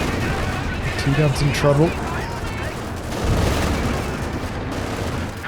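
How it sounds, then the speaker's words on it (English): Howitzer artillery fire from a British base in Company of Heroes 2 booms under dense, continuous battle noise, with a swell of blasts partway through, while a commentator talks over it. "Some British base howitzers coming in."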